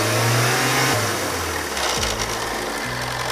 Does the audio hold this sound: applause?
no